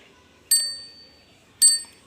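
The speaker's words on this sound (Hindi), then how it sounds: "घंटी बजाना" Two bright, short rings of a bicycle bell, spaced about a second apart, sounding close and clear against a near-silent background.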